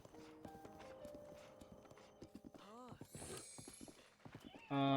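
Horse Sylvo in the video game Breath of the Wild clip-clops steadily at a trot, hooves ticking in a regular rhythm, then lets out a short whinny and ends with a loud, bright neigh; faint and fairly close.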